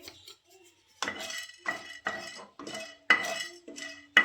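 Melon seeds are dry roasted in a pan while a utensil stirs them. The result is a series of distinct scraping and rattling bursts, about half a dozen in a steady rhythm, separated by short quiet gaps.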